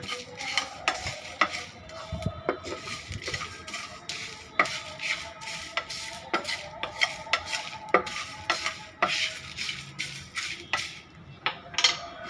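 Mango pickle sauce being stirred and fried in a pan, a long run of quick scraping spatula strokes and clinks over a low sizzle, close and rhythmic with no voices.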